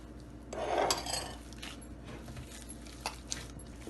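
Spoon scraping and clinking against a bowl while a kebab mixture of unroasted besan, salt and garam masala is stirred together, a brief louder burst of mixing followed by softer scrapes and a few light taps.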